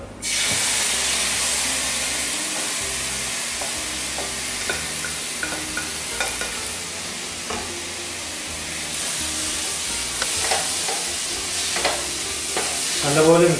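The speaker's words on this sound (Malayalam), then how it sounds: "ഈ തക്കാളി ഒന്ന് നല്ലപോലെ വേവണം അതുവരെ നമുക്കൊന്ന് വഴറ്റി കൊടുക്കാം" Chopped tomatoes sauté in a pan for green pepper chicken, sizzling loudly and continuously up close, with repeated scraping stirs and bursts of hissing steam.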